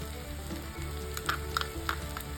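Butter sweet corn masala sizzles in a hot pan as it is stirred, a steady crackling fry with a few sharp spoon clinks against the pan near the end, close and fairly quiet.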